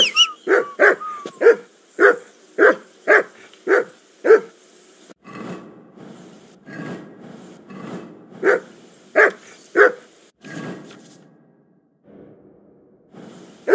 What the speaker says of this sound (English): Do something with that mutt, Henry.